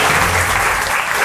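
A studio audience at a children's general-knowledge quiz show in Bihar gives a contestant a dense, steady burst of loud clapping that fills the whole moment without a break.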